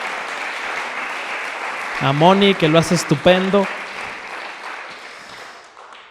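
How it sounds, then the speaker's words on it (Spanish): A church congregation applauds its worship band with a broad, steady clatter. Someone talks over the clapping midway, and the applause then fades to near silence. "Le podemos dar un fuerte aplauso a nuestro grupo de alabanza"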